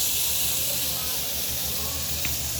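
Boiled noodles dropped into hot oil, giving a steady, loud, close hiss and sizzle that holds evenly throughout without pauses.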